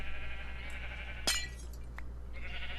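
A Minecraft sheep bleats once, short and clear, over a steady low background hum, with a faint clink shortly after.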